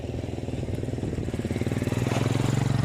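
A diesel tractor engine putters with a steady rapid chugging that grows louder toward the end, as if drawing nearer, on a road near Jejuri, Maharashtra.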